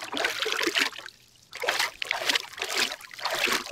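Water being collected in the medieval survival game Reign of Kings, heard as repeated bursts of splashing and sloshing with one short quiet gap. The sound is fairly loud and close, with no voices.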